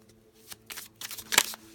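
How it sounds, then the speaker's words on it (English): A quick riffle of tarot cards, a few soft ruffling bursts building to one crisp, louder flutter, close up and quiet. "they shuffle pretty well."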